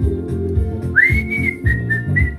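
An African grey parrot whistles a clear rising note followed by a few shorter repeated whistles, close and loud over a low background.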